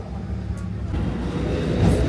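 Interior of a JR train carriage in Japan with open seating, tables and wooden seats, a steady low rumble and rattle of the running train filling the clip, growing slightly louder toward the end, with no talk over it.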